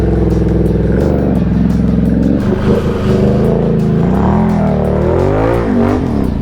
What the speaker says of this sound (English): Bro, these tires are just crawling all over this swamp.